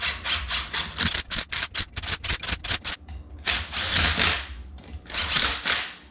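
A light impact gun runs down the bolts on a GM 12-bolt ring gear in a series of loud, close, rapid hammering bursts, first short repeated pulses and then longer sustained runs.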